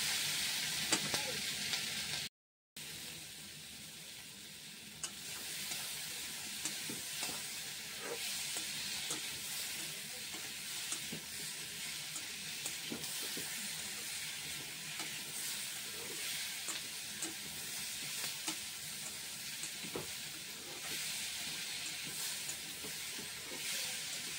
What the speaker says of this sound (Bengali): দেখতে পাচ্ছ সজনাগুলো ফ্রাই হয়ে গেছে।